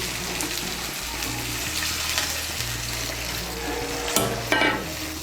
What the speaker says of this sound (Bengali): আমি এর মধ্যে 2 কাপ গরম জল দিচ্ছি।